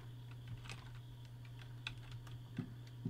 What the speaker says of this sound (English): Then I'm going to type winget